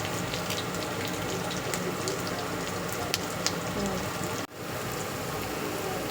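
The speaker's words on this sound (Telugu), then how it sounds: "ఆవాలు, జీలకర్ర, తెల్లగడ్డ, ఒట్టిమిరపకాయ, కరివేపాకు అన్నీ వేసి వేయించేసేది" Mustard seeds, cumin, garlic, dry red chillies and curry leaves frying in hot oil for a puffed-rice mixture, a loud continuous crackling sizzle that cuts out briefly near the end and resumes.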